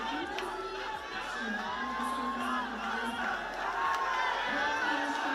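A stadium crowd at an AFC U20 Championship football final between Bangladesh and India roars and cheers in a continuous dense wash, loud and sustained with scattered shouts and whoops rising out of it throughout.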